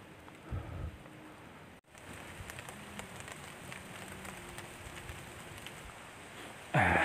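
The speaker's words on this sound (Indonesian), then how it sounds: "Sepertinya mulai hujan." Rain begins falling during a foggy mountain hike up Gunung Sindoro, a soft continuous patter of drops on surfaces and foliage with a few brief louder bumps and rustles close by.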